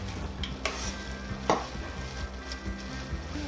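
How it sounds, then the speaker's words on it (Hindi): Carrot halwa with ghee and cardamom is stirred and roasted in a pan, with soft scraping strokes and light clinks over a faint sizzle, quiet and close. "इसको मिक्स करने के बाद अच्छे से इसको भून लेना है।"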